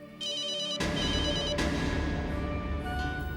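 A telephone rings loudly with a repeated electronic ringtone, bursts of bright tones restarting a few times in quick succession, with no voices over it.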